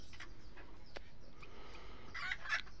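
Native backyard chickens being given eye-drop vaccine cluck softly, a few short faint calls bunched near the end over a quiet hiss.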